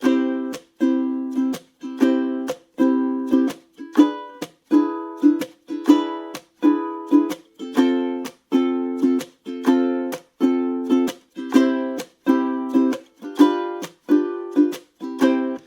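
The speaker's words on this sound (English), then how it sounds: "So you can put a chuck on beats 2 and 4." Steady ukulele strumming in a bright, even rhythm, with short percussive muted chucks landing on alternate beats, played alone with no voices.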